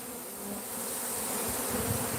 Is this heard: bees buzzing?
yes